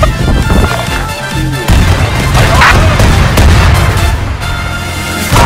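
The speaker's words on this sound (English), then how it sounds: "Those are a lot of bombs." Bombs explode in rapid succession in an online multiplayer video game, a dense run of loud, booming blasts and crackling detonations that carry on almost without a break.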